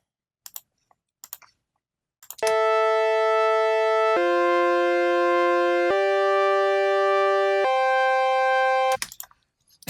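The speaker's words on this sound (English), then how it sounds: "So this is what the synth is playing." Sustained synthesizer chords in Ableton Live, a bright harmonic pad holding four successive chord changes at steady volume for about six seconds, with faint clicks before and after.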